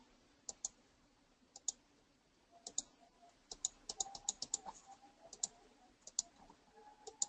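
A computer mouse clicks in quick, irregular bursts while the shift key is held during image selection on a desktop. The sharp, close, light clicks sit over a quiet room hum, with no talking.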